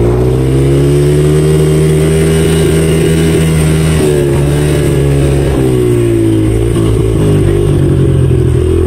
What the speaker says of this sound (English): I forgot my quad is faster than this dirt bike, but I forgot how fast this accelerates.